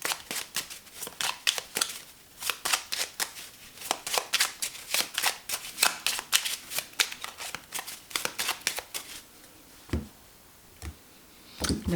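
A deck of Lenormand cards is shuffled in rapid, crisp riffling bursts close to the microphone, then cut with a couple of sharper slaps near the end.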